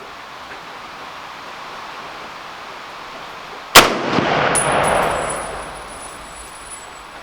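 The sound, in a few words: M1 Garand rifle firing 150 grain rounds at range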